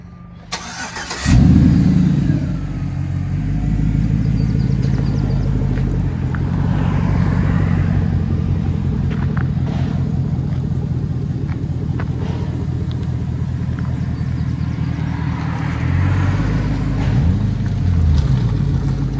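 A 2007 Chevy Silverado 5.3L V8 on true dual straight-pipe exhaust cranks and fires up, then settles into a loud, choppy, throbbing idle that holds steady with slight swells throughout.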